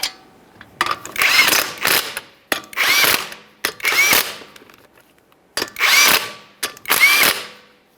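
A power tool ratchets the 19mm lug nuts onto a 2013-2020 Ford Fusion 2.0L front wheel during control arm replacement, five loud close bursts of rapid impact rattling separated by short pauses.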